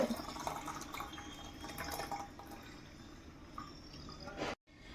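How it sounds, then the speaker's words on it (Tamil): Drumstick leaf soup strained into a vessel, a steady close trickle and splash of liquid that runs continuously and stops abruptly near the end. "இப்போ வந்து நான் வடிகட்டி எடுத்துக்கிறேன்"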